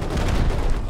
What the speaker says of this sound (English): Yeah, I'm gonna start shooting.